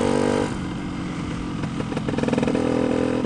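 A Lambretta scooter with a Simonini 260 engine climbing under power, its loud close exhaust note holding a steady throaty drone and pulsing harder as it pulls uphill.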